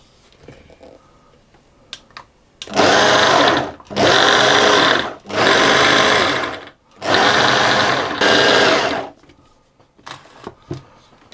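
A food processor pulsing pecan streusel for a lemon cake: four loud, close bursts of whirring blades, each about a second long, separated by short pauses, with faint clicks before and after.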